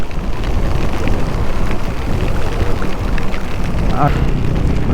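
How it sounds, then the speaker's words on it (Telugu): Heavy rain pours down during a road journey amid traffic, a dense, loud, unbroken hiss of falling water filling the whole clip close to the microphone. "హెవీగా పడుతుంది వర్షం అయితే."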